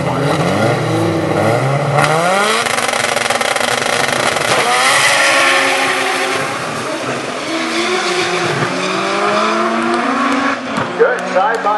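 A turbocharged Golf and a turbocharged Volvo 240 drag race side by side down the strip, their engines roaring and rising through gear changes, loud and continuous, with a commentator's voice over the din.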